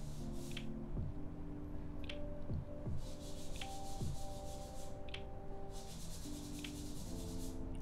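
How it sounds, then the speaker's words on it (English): Vigorous, continuous sanding or scrubbing during a guitar build, with broadband rasping bursts and occasional sharp clicks, close and steady throughout, with no voices. "Some intense sanding or scrubbing,"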